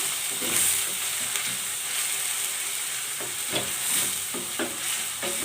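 Spinach quiche filling being mixed with black pepper and salt, a steady sizzling, hissing texture with occasional soft stirring knocks, close and continuous with no talking.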